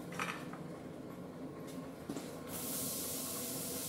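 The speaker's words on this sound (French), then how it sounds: "je vais y mettre les oignons" Chopped onions drop into a hot cast-iron pot for a rabbit gibelotte stew, a low sizzle that swells into a loud, steady broadband hiss after a couple of seconds, with faint clatter of cookware early on.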